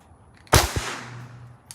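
A single suppressed shot from a .22 rifle fitted with an Anechoic Pipsqueak suppressor, firing Norma TAC 22 supersonic ammunition: a sharp, loud crack with a quick echo, a short ringing tail, then quiet.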